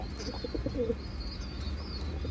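Young pigeon squab cooing in a short burst of soft low coos, close by, followed by faint background chirps and a quiet steady ambient hum.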